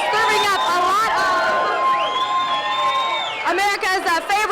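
A large crowd of football fans packed into a sports bar on the south side, a loud steady hubbub of chatter and cheering sitting under a nearby voice speaking throughout.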